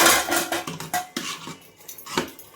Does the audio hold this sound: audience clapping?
no